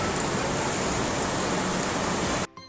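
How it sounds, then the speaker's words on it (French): Light rain pattering steadily across a Cameroonian banana plantation, a dense continuous hiss of drops on broad leaves that cuts off abruptly near the end. "Il pleut un peu."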